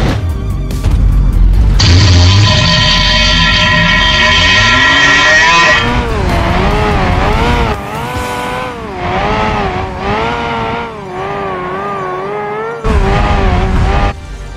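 An off-road Pigeon vehicle drives fast in the driving game BeamNG, its small engine revving loudly and wavering up and down as it speeds along, with brief dips between bursts of throttle.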